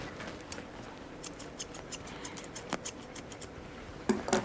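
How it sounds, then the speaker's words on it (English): Scissors trim a Westie dog's coat with a series of quick, crisp snips at close range, irregular at first and then coming in a brisker rhythm, with no talking. "I lean my scissors like this and I aim for the tip"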